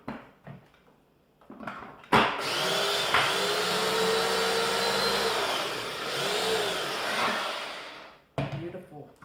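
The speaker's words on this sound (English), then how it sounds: "So let's just blend this one more time." A blender roars steadily for about six seconds, blending broccoli pesto with lemon juice and olive oil. Its whine shifts slightly as it runs, and short clatters and quiet kitchen sounds come before and after.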